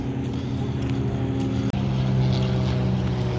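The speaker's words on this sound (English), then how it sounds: "So we got some stunt planes right now leaving some smoke around." Stunt planes trail smoke over the Akron Fulton Airport air show, a continuous propeller drone with a steady buzzing tone, briefly cut off once partway through before the engine noise resumes.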